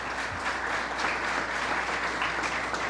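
Steady, dense applause from an audience honoring guests at a school event, a continuous wash of many hands clapping throughout with no talk over it.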